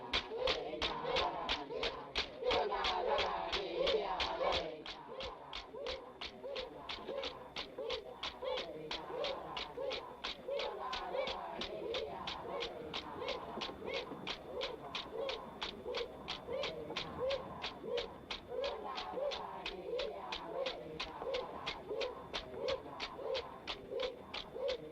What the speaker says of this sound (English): These are cockatoos.